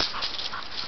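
A puppy lets out a few short, close yips and whimpers, a quick high-pitched burst in a brief moment.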